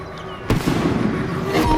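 Fireworks bursting over Sydney during the Millennium celebration display, a sudden sharp bang followed by a dense, sustained rumble and crackle of overlapping explosions at close-to-moderate distance.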